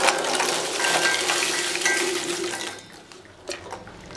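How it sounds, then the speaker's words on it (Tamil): Fried maida biscuit diamonds are stirred into sugar syrup in a bowl, producing a wet clattering, sloshing sound that fades after about three seconds, followed by a few light knocks. "இனி நம்ம ஃப்ரை பண்ணி வச்சுருக்கிற இதை போட்டு மிக்ஸ் பண்ணிக்கலாம்."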